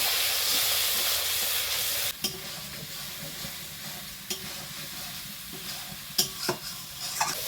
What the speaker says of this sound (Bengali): মশলাগুলোকে ভালোভাবে কষিয়ে নেওয়ার জন্য সামান্য পরিমাণে আমি একটু জল দেব।